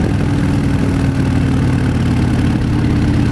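Harley-Davidson Fat Bob motorcycle engine while cruising on a road, a loud, steady, deep rumble with constant wind noise and no break throughout.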